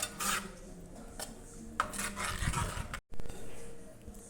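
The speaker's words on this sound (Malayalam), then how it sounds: "അപ്പോൾ ഇങ്ങനെ പതിയെ ഒന്ന് ഇളക്കി ഇളക്കി കൊടുത്തുകൊണ്ടിരിക്കുക" Tomato and okra curry is stirred in a pot, with a spoon scraping and clinking against the metal in irregular bursts at close range, followed by a short silence and then more scraping.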